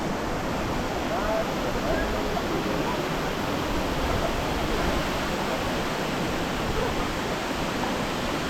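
Mantayupan Falls in Cebu, Philippines, pours down in a full, steady broadband roar that holds constant and loud without a break.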